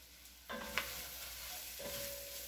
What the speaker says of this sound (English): We do this so that they sear up, so that they don't get mushy